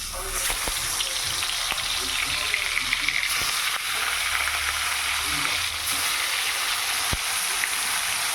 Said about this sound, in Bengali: এদিকে তো মাছটা ভাজা হচ্ছে